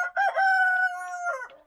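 A rooster on an off-grid mountain homestead crows once, close and loud, a long drawn-out call with a rising start and a fading tail.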